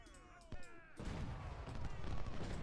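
Gunfire in the Civil War strategy game Ultimate General: Civil War, a sharp shot followed by a sustained rolling volley of musketry from about one second on, with a faint tonal sound before the shot.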